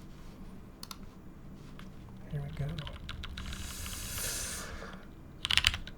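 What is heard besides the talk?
typing on Matrix 8XV keyboard with case foam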